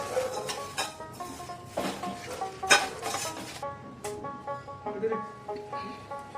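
Nigella and cumin seeds dry roasting in a pan for mango pickle, with light crackling and intermittent scrapes and clinks of a spoon stirring, close and moderately loud, a voice faintly in the background.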